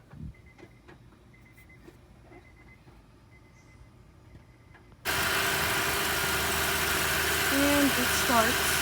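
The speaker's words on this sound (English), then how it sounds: "So you go ahead and crank it, Lily" A 2005 Honda Odyssey minivan engine, just fitted with a new neutral switch, fires abruptly after a quiet stretch and settles into a loud, steady idle close by.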